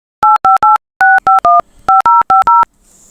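Telephone keypad dialing tones: eleven crisp, loud DTMF beeps in quick groups with short gaps, ending in a faint higher tone and quiet background.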